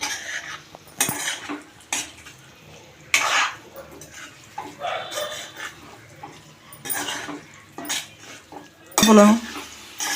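Potato pieces are stirred into a potato masala kurma curry in a metal pot, with intermittent scraping clanks and knocks of a utensil against the pot, close and fairly loud, with no talking.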